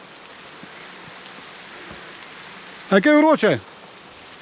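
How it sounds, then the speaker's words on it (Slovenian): Rain pouring down outdoors in the Triglav Lakes Valley, a steady, even hiss of falling drops throughout, with a person briefly speaking near the end. "No, prvo, kar se je ulil še dež."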